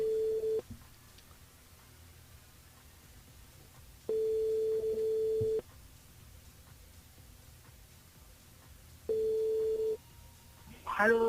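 A telephone line rings out for a radio call-in show, giving three long, steady electronic tones separated by quiet gaps, clear and moderately loud, with a voice answering faintly at the end.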